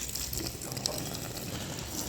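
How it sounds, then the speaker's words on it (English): Water steadily filling a large tied bag of weeds being steeped into garden fertiliser, a continuous close splashing and gurgling with no talk. "fill it up with some water now."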